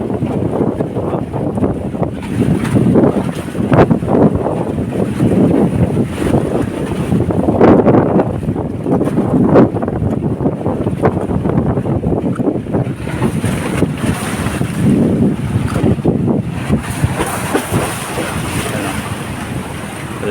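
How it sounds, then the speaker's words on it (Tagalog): Strong typhoon wind gusting hard against a seaside seawall at Baseco, buffeting the microphone with a constant loud roar and surging blasts, sea surf churning beneath it. "Lakas ng hangin."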